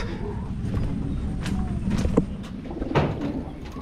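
Pigeons cooing in a loft holding flyers and breeders, soft low coos repeating over a steady murmur of birds, with a couple of louder calls near the end and some background human voice.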